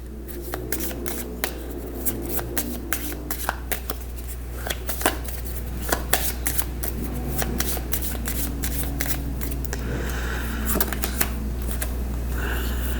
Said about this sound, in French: On va tirer la carte de Osho pour l'éclipse.